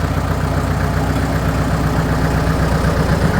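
A Farmall 650 tractor's diesel engine, not yet warmed up, runs at a steady idle with a continuous low, throbbing rumble that stays even and close throughout.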